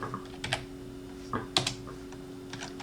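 A computer keyboard being tapped to enter a debug console command, with sparse, quiet clicks in small irregular clusters over a low steady hum.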